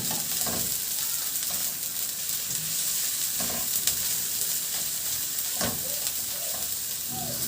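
Onions fry in a pan with a constant crackling sizzle, punctuated by a few loud clattering stirs spaced several seconds apart, close up and without speech.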